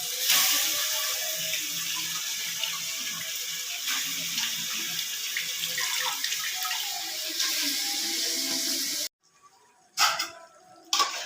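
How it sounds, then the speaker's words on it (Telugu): Tap water runs steadily over raw chicken in a kitchen sink, a loud continuous splashing rush that cuts off near the end, followed by a couple of brief bursts. "మళ్ళీ వాటర్తో పోసి ఇలా అది కడిగేసుకుంటానండి నేను ఇప్పుడు."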